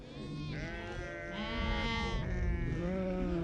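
A mountain flock of sheep bleats continuously, several overlapping voices calling loud and close, with no talk over them.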